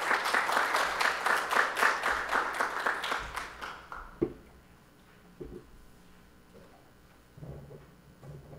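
An audience at a science and technology policy forum's opening ceremony claps loudly for a few seconds, then the applause fades out, leaving a quiet room with a few faint knocks.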